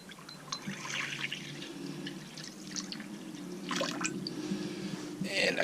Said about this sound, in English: her water bowl, I've just got a water can here, so I'll fill that actually right now